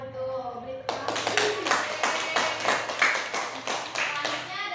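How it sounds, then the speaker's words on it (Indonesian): A classroom of students claps for a classmate's answer during a teaching lesson, a steady, moderately loud round of many hands that starts abruptly after a brief spoken phrase and continues evenly to the end. "Beri tepuk tangan."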